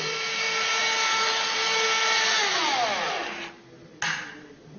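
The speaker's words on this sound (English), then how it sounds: "That was the sound of solenoidal valve opening." A solenoid valve on an Arduino-controlled bottle filling conveyor opens with a loud, steady mechanical whir that sinks in pitch and cuts out, followed by a brief, sharp click-burst and a quieter tail.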